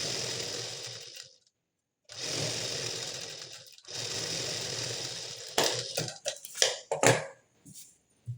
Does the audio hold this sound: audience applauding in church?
no